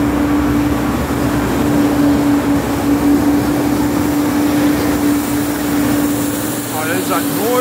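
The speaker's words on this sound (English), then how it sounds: "Oh, there's that noisy truck again." A noisy truck passing close by, heard from inside an Arriva 480 bus: a loud, steady roar with a droning engine hum that runs the whole time, with a brief warbling sound near the end.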